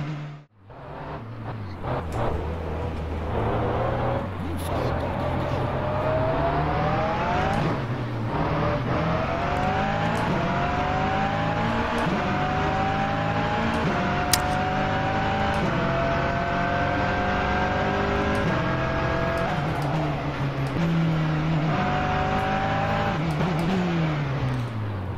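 Race cars in the rFactor 2 racing game roar continuously, engines rising and shifting through gears with repeated revving sweeps, loud and close for the whole stretch with no talk.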